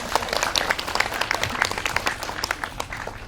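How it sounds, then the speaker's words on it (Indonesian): Audience applause at an iftar gathering, dense crisp clapping from a sizeable crowd, steady and fairly loud throughout with a few brief voices mixed in. "Tepuk tangan buat semuanya."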